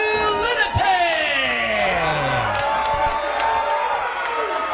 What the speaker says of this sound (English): I never thought I would hear the fans applaud as loudly as they just did for the Johnnies.